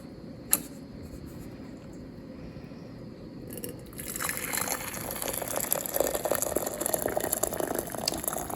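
Boiling water, about four cups, poured over tea bags in a container for homemade kombucha, a sharp clink followed by a steadily building gush and splash of liquid that lasts to the end, with no talking.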